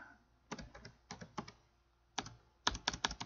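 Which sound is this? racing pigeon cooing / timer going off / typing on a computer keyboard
typing on a computer keyboard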